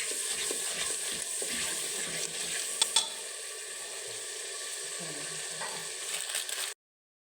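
Masala fries in a pot for kadhi, a soft, steady sizzle with occasional faint scrapes and clinks of stirring, fairly quiet and without talk, cutting off abruptly near the end.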